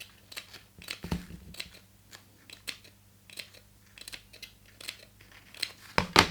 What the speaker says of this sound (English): Snip the gusset around the curved corners.